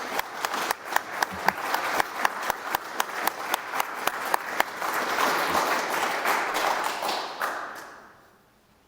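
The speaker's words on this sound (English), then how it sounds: "So can we show a round of applause for Peter, please?" A lecture audience applauds the speaker at a history and astronomy society talk, a close rhythmic clap standing out over a broader room of clapping that swells and then fades to quiet.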